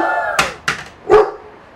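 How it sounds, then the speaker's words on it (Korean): A dog barks loudly at night in a village, three sharp, close barks spaced about a third of a second apart with no voices over them. "온 동네가 떠나가라 그냥 쩌렁쩌렁 짖기 시작하는데"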